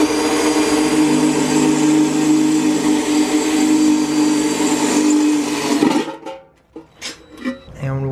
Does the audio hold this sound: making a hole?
yes